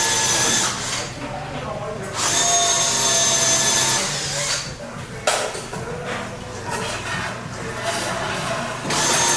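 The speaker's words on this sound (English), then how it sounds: "So now, tighten up those bolts." A power tool whirs in repeated bursts, separated by short pauses, as it runs bolts tight on the e-brake assembly of a VW Mk5 build. The tool is close and loud.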